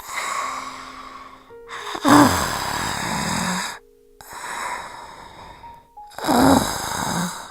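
Slow, raspy witch's breathing in a horror narration: drawn-out, hoarse inhales and exhales separated by brief silences, close and loud with a harsh, strained edge.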